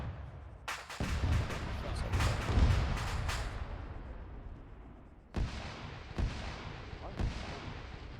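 In Arma 3, an anti-tank rocket launches with a loud blast, then a boom and rumbling explosions at about 200 metres, followed by several sharper bangs later on, with no talk audible.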